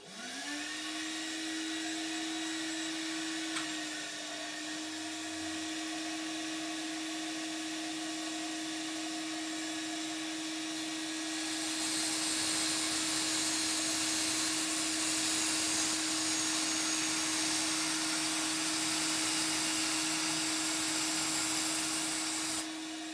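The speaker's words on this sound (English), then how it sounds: "And now I'm going to do a cross cut using the mitre fence." A Record Power DX1000 dust extractor drones steadily while a saw makes a cross cut along a mitre fence. The roar grows louder and fuller halfway through as the blade bites, with no talking.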